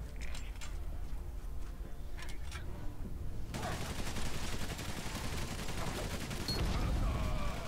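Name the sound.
machine pistol gunfire in video game Valiant Hearts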